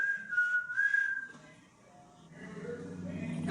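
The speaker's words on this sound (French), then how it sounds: "J'ai entendu siffler." A sustained, wavering whistle rings out for about a second and a half, followed by a low rumble and muffled sounds.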